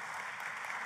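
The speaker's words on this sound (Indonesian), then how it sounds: "Tepuk tangannya yang meriah buat Tuhan." A congregation claps at an Indonesian church service, a brief burst of dense, steady applause heard from a distance with no voices over it.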